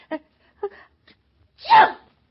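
A single loud, breathy sneeze bursts out near the end, after a couple of short, soft vocal sounds.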